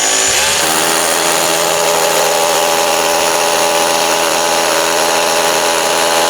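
A Makita power tool, likely a chainsaw, runs continuously at full speed for a benchmark against an Erbauer, with a steady loud buzzing engine drone and no pauses or talk.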